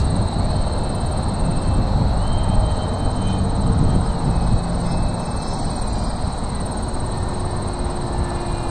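HL MiG-15 model jet with wheels flying on a windy day, a continuous loud engine whine with a steady high tone, buffeted by rushing wind noise throughout.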